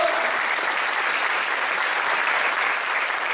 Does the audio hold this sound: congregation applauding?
yes